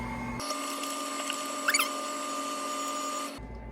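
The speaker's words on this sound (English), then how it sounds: "Turn on my mixer and then press down." A stand mixer fitted with a cheese grater attachment runs at a steady, loud, high-pitched whine as cheese is pressed through, with a few brief rattling grinding bursts before the motor cuts off.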